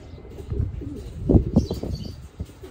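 Pigeons flap their wings in a few quick, close bursts of soft fluttering, with faint bird sounds in the background.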